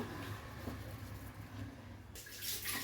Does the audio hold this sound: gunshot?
no